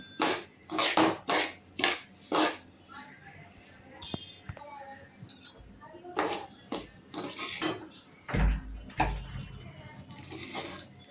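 Ragi and varagu rice are dry-roasted in a pan, with rhythmic scraping strokes of a spoon and clinks of metal, mostly under steady talking.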